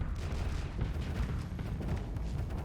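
A shock cannon fires during a Starsector space battle, producing a continuous barrage of muffled booms and thuds at moderate volume, steady and rumbling throughout with no voices.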